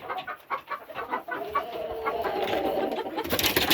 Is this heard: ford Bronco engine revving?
no